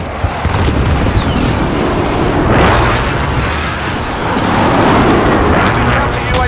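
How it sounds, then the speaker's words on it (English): Rumbling, dense barrage of precision airstrike explosions in Call of Duty Modern Warfare, heavy booms swelling in two waves and sustained loud throughout, with a game voice faintly present. "Friendly precision airstrike inbound."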